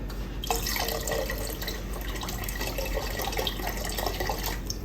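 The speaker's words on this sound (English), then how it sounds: "And then I'm going to add the broth." Broth is poured into a cooking pot that already holds olives for a marota dish, making a steady, continuous liquid splashing and trickling sound close by, with no talking.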